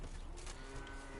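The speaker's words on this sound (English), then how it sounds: "Cows." Cattle moo in the Witcher 3 video game, a single drawn-out low moo heard at moderate distance over game ambience, with no talking.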